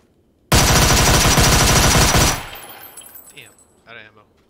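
A Scorpion submachine gun fires in PUBG, a loud, dense burst of rapid automatic shots lasting about two seconds, then quieter game sounds and brief speech after the shooting stops.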